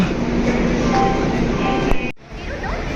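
A Garib Rath Express from Delhi stands at platform 5 of Vijayawada railway station, giving off a steady, close rumble with faint tonal whines. The sound cuts out abruptly near the end, then a quieter station ambience follows.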